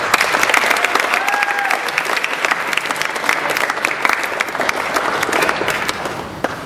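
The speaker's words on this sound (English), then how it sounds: "So please give yourself a big round of applause." Loud, dense applause from a large conference audience, many hands clapping continuously and evenly throughout, close and full.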